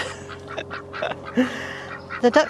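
Ducks quacking in an autumn garden, several short nasal quacks in scattered bursts, nearby and clear over a quiet outdoor background.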